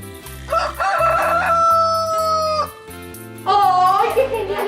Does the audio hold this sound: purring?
no